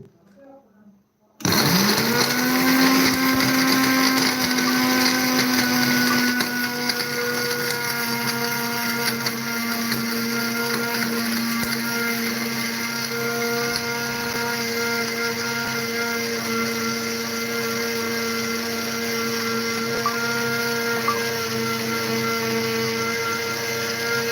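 An electric mixer grinder grinds tea masala spice mix. After a second of near silence it starts with a loud, steady motor whir and keeps running unchanged to the end.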